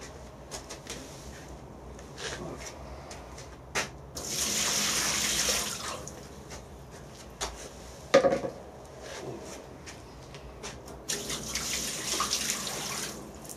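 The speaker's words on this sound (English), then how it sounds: "So the first thing we'll do is put the water in." Water is poured into a CNC plasma cutting table, a soft splashing and trickling stream that swells and pauses in bursts, with occasional knocks and clatters against the metal tank.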